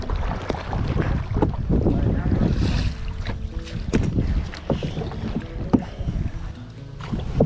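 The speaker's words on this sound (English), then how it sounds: "We are on our canoe." A canoe out on open water, with steady wind rush and water wash throughout and soft knocks and splashes of paddling, no voices.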